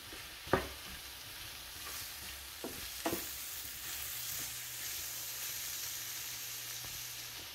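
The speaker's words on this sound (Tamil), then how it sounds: "பொரிச்ச இறால் போடுவோம்" Fried shrimp tipped into a pan for a Sri Lankan devilled shrimp dish, giving a steady, fairly quiet sizzle and frying hiss with a few clatters of stirring near the start.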